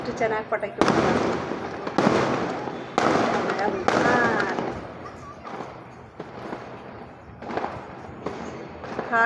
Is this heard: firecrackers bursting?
yes